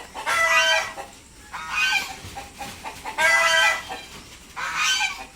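Geese and Peking ducks on a farm field give loud, harsh, honking calls in four close bursts of about a second each, with brief pauses between and no talking.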